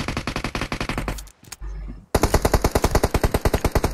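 An M4 rifle fires in BGMI in two rapid automatic bursts, loud and close, separated by a brief pause, with the second burst running steadily to the end.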